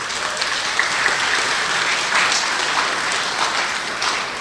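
An audience at a regional utility company's conference claps steadily, a dense, even wash of applause filling the room from start to finish without any talk.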